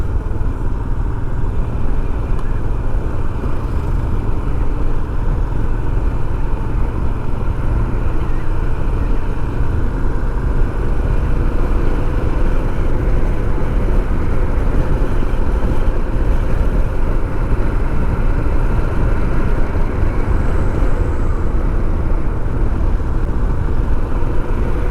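A motorcycle cruises along a mountain road in Cantá, Roraima, its engine droning loudly and continuously under heavy wind rush for the whole ride.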